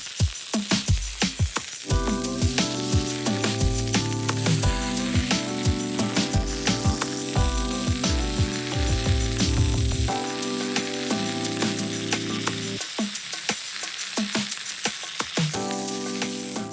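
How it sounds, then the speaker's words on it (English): A stuffed boneless leg of lamb sears in a hot pan, a steady close sizzle with crackling pops and occasional scraping, under background music. "Now it's time to sear outside."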